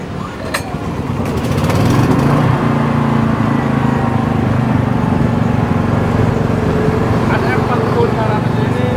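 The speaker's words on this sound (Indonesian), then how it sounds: "Tarik koil starter." Aipower SM4500i smart inverter generator pull-started by its recoil cord, then settling into a steady, loud engine drone that holds for several seconds, with a voice talking over it.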